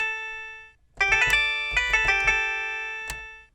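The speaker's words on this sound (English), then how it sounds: "And banjo." Banjo voice on a cat-face toy keyboard: a handful of twangy plucked electronic notes in a quick, uneven run, clear and close with no talking.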